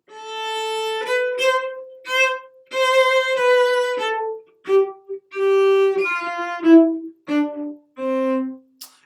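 Solo violin playing a Mozart excerpt, a descending scale in quarter notes starting on open A, with clear separated bowed notes stepping down in pitch at a steady moderate pace, close and alone.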